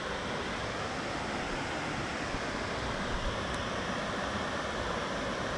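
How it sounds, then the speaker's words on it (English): River water rushing beside a wooded hiking trail, a dense, even roar that holds constant and fills the whole moment, fairly close and with no voices. "you can hear that river."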